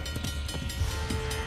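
A train rolls steadily along in the video game Uncharted: The Lost Legacy, a continuous low rumble with rhythmic clacking and a faint hiss, heard alone and close.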